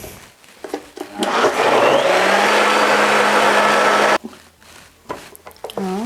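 A blender roars at full speed for several seconds while blending pigeon pea hummus, loud and steady with a whirring motor pitch, then cuts off abruptly, leaving quiet clatter and brief talk.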